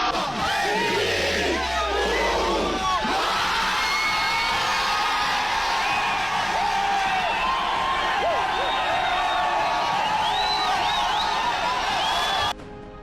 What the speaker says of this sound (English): The crowd erupted, and history had been made.